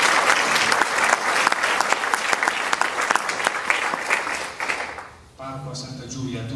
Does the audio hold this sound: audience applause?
yes